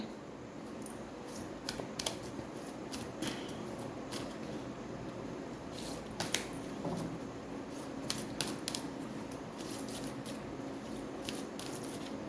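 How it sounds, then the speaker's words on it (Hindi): A deck of angel oracle cards being shuffled, faint repeated riffling and soft card flicks in quick irregular bursts, close and quiet throughout. "ये जो डेक है हम इससे ज़रूर लेंगे।"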